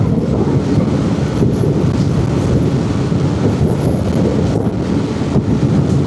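Strong wind buffets a rider on a Modenas Elite 150S motorcycle, a loud, continuous rough roar with engine rumble underneath.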